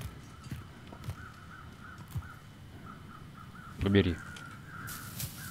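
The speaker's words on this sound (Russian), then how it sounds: "Над мясом волка кружат вороны?" Crows caw repeatedly over wolf meat in the survival game The Long Dark, a series of harsh calls at mid distance amid wind, with one brief spoken word and a louder thump.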